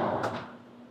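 A stainless pull-out kitchen drawer slides shut with a short rolling glide ending in a soft thud, followed by a faint fading resonance.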